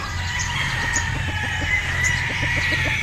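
A Sweater-line gamecock rooster crows in a sustained call over a steady, dense background of other fowl calling and clucking, fairly loud throughout.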